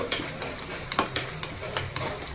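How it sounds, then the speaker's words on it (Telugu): Hot oil sizzling in a pan as spices and cumin seeds fry for a tempering, while a spoon scrapes and stirs in several quick strokes. "ఇవన్నీ చక్కగా దోరగా వేగాలండి"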